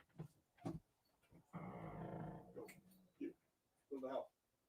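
A dog growls in a low, rough, sustained rumble for about a second, close by, between short bursts of a man's speech.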